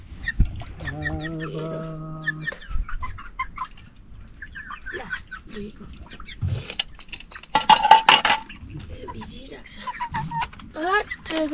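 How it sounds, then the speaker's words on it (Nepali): Wet chickens cluck and squawk nearby, with a rooster-like drawn-out call early on and scattered hen cackles, while a person talks intermittently. "भिजिरहेको छ कुखुराहरू"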